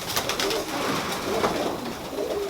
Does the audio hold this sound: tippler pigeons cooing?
yes